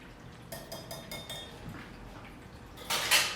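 A spoon stirs tarragon into a cocktail in a glass, giving a few light clinks and soft swirling taps, close and quiet, with a brighter clatter near the end.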